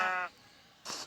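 Sheep bleating in Minecraft, a short nasal bleat followed after a pause by a brief hissy hit sound, close and clear.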